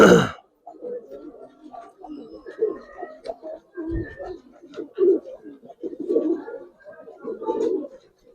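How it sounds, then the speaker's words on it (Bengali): A pair of black pigeons coo in soft, throaty bursts, close and repeating unevenly with short pauses between them, while someone talks nearby at times. "ভাই এক জোড়া ভাই কালো কালো কবুতর দেখেন ভাই"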